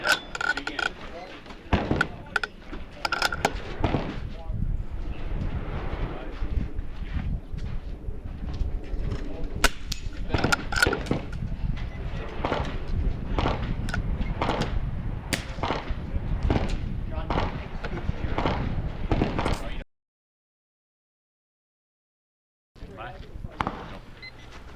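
Rimfire rifle shots at an NRL22 match ring out as sharp, repeated cracks and metallic hits on swinging steel targets, scattered at irregular intervals across the stage, with a brief silent gap near the end.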